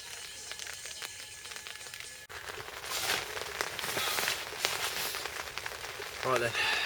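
Rain falling steadily outdoors, a broad hiss of drops that grows louder and denser partway through, with occasional sharper patters close by.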